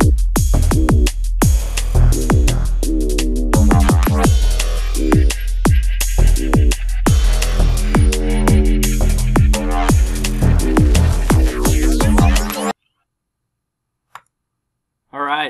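A minimal tech drum and bass tune with a synthesized bass made in Ableton Live's Operator plays loud and close: punchy, rapid drum hits over a deep, sustained bass line that cuts off abruptly near the end, followed by a short faint blip.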